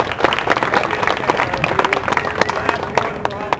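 An outdoor crowd on a pedestrian street claps for a fire-juggling and straitjacket street performer, with loud, uneven clapping, some cheering and nearby voices.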